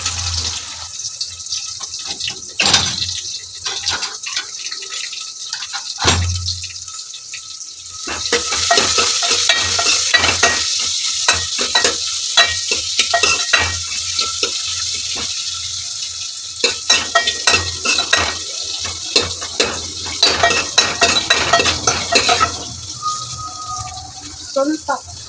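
Chopped onions go into a pan over a low flame for jeera rasam, giving a loud sizzle and steady frying hiss with spoon scrapes and stirring clatter throughout, while someone talks over it.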